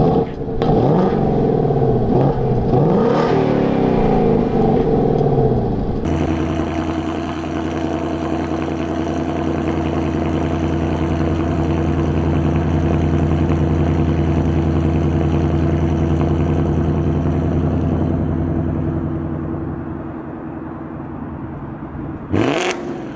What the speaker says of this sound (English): I'll go ahead and put a exhaust clip on how my Mustang sounded when it was stock, and then compare it to how it sounds now.